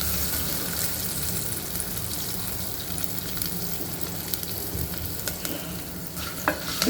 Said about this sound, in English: The garlic has not to be browned much, just a little saute.